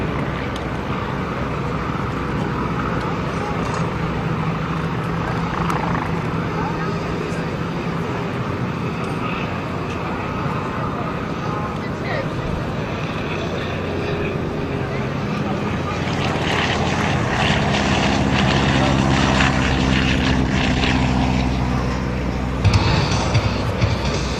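Navy trainer aircraft flying in a parade of trainers from Naval Air Station Pensacola at the 2010 Blue Angels Homecoming airshow, a continuous broad engine roar with wind that swells louder and closer toward the end.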